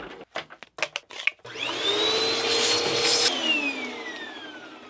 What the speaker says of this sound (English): I think I need to do some vacuuming.